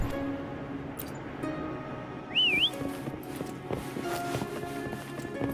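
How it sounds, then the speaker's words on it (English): A short rising-and-falling whistle calls a horse in a fantasy video game. It rises briefly over a steady bed of footsteps and hoof clip-clop. "Try whistling."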